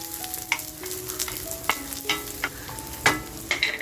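Green chilies and a piece of ginger sizzle and crackle as they roast in a hot pan, with scrapes and stirring clatters at irregular intervals close up.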